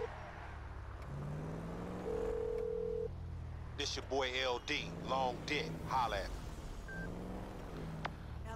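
A phone call is dialed in GTA V: a steady tone sounds, then warbling ring tones repeat, with a car engine rumbling underneath and someone talking over parts of it.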